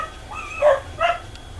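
Excited household dogs give two short, high yips or whimpering barks, close and moderately loud, over a quiet indoor background with no talking.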